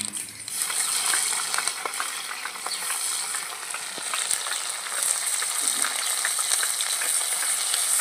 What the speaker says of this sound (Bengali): এবার দিয়ে দেবো ধুয়ে রাখা চিংড়ি মাছগুলো।